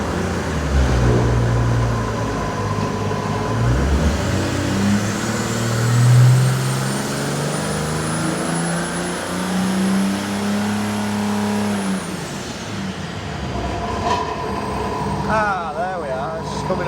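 A Mercedes OM606 diesel engine runs on a Superflow dyno, a loud rough drone swelling in pitch for several seconds with a rising whine, then dropping away, with people talking near the end.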